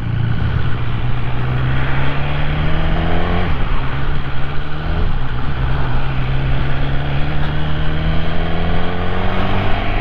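A motorcycle engine, picked up by a camera mounted low on the bike, drones loud and close, its pitch climbing steadily through a brief dip as it accelerates, with no voices.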